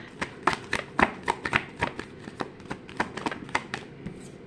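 Tarot card decks are shuffled by hand at close range, giving a quick, irregular series of crisp flicks and riffles that continue steadily without speech.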